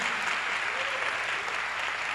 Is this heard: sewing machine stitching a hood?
no